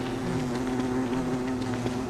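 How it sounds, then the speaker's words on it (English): A bee buzzing in the video game Don't Starve, a steady droning hum with wavering pitch, moderately near and continuous throughout, with no talk. "There is a bee on the road."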